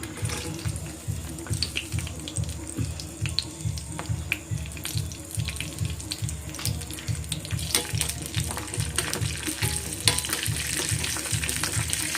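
Steady oil sizzle with a rhythmic low thumping, as cashews and raisins fry in a pan; continuous and close, no voices.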